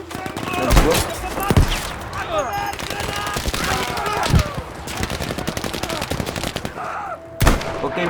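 Rapid gunfire and machine-gun bursts crackle almost continuously in a Battlefield V battle, with a few heavier booming shots standing out, while someone talks over the fighting.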